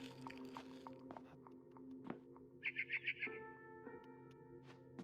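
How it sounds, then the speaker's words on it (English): In the game What Remains of Edith Finch, a barn swallow gives a quick run of about five bright chirps outside a window, set against soft background ambience and scattered small clicks. "Then I heard chirping outside my window. It was a barn swallow going back to her nest."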